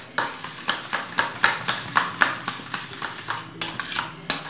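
Eggs are whisked in a bowl for egg paratha, the utensil striking the bowl in a quick, steady series of close, sharp clinks that run nearly without pause.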